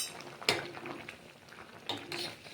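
Spoon stirring an ivy gourd masala curry in a pan, two sharp scraping clinks against the metal amid soft simmering, close and fairly quiet.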